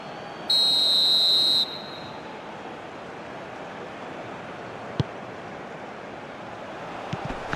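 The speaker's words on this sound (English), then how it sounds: "Whistle's gone, that's a foul." A referee's whistle sounds in the eFootball PES 2021 football video game, one sharp, loud, high blast lasting about a second, followed by low crowd noise and a couple of faint thuds.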